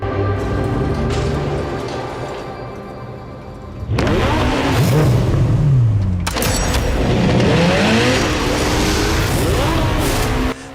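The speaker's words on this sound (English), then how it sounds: "the SF90 Stradale, named to celebrate the 90th anniversary of the Scuderia Ferrari racing team" A Ferrari SF90 Stradale, a plug-in hybrid with a 4.0-liter twin-turbo V8, roars loudly through several revving passes and accelerations, with the pitch sweeping upward through the gears.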